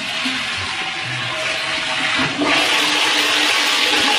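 A freshly repaired household toilet flushes loud and close, a steady rushing gush of water that runs the whole time and swells slightly partway through.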